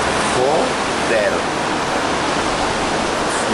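A swollen river rushes strongly past after dawn rain, a steady broadband roar of water filling the whole stretch, with brief faint voice-like sounds near the start.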